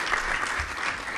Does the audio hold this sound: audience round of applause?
yes